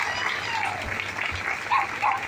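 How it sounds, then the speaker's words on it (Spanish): Applause from an audience at a tribute evening for Mataco Lemos at a folk peña in Corrientes, steady crowd clapping with a few livelier swells, and a faint voice or two mixed in. "vamos a brindarle un gran aplauso a Mataco"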